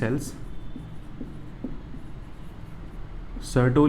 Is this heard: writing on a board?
yes